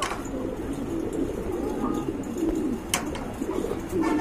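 Pigeons coo low and close in a pen, with a steady murmur of birds and a few sharp clicks or flutters. The coos repeat throughout.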